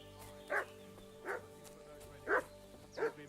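A dog barks in four separate loud bursts spaced about a second apart, sounding moderately close, with a hum and faint background noise between the barks.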